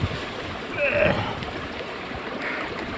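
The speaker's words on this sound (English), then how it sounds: "So this is running water, it's quite deep." Running water rushes through a deep hole on Dartmoor during a stormy wild camp, a continuous close burble and wash, with a brief louder surge partway through and faint wind around it.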